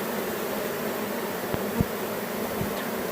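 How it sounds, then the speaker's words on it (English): A dense, steady buzzing hum of a honey bee swarm settling on a hive, continuous and even, with a couple of faint knocks partway through. "It's a pretty good sized swarm right on top."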